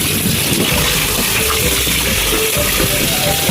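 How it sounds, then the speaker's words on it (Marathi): Water sprays hard and continuously from a bent pipe onto a bicycle being washed, a loud, close, steady gushing hiss that lasts the whole moment. "फुल स्पीड मध्ये पाणी."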